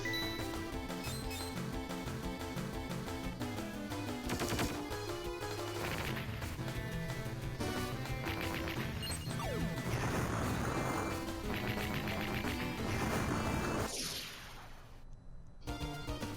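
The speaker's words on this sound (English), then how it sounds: "Let's actually use aim shot to finish this" Aim Shot attack from the Medabots Game Boy Advance game, heard as busy retro chiptune music with sharp metallic shot and impact effects throughout, ending in a brief bright burst before fading.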